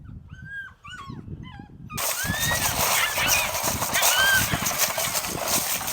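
A puppy yelps and whimpers in high, quick cries during bite work training with a sleeve, mixed with handling and rustling noise close by.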